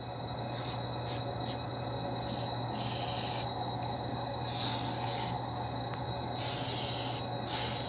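Short hissing bursts from an ant spray aerosol can, several spurts of varying length with brief gaps, close by over a low steady hum.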